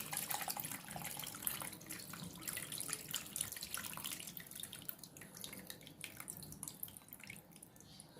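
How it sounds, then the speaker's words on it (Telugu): Tamarind pulp poured into a pan of Andhra-style fish curry, a continuous wet pouring and splashing that stays fairly faint and close, with no talking. "ఇప్పుడు ముందుగా గుజ్జు తీసుకున్న చింతపండుని పోసుకుందాం."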